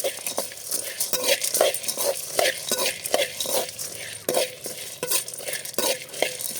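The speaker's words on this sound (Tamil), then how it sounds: "பொட்டுக்கடலை கொஞ்சம் நல்லா டீப் ஃப்ரை பண்ணிக்கலாம்" Cardamom and roasted gram fry in a pan, giving a busy sizzle under rhythmic, clattering stirs of a spoon against metal, close up, with a faint murmur in places.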